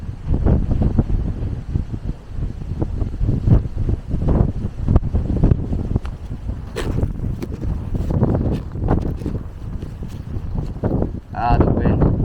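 Wind buffets the microphone outdoors with constant low rumbling gusts, the speaker talking over it during a ride on a Begode A2 electric unicycle.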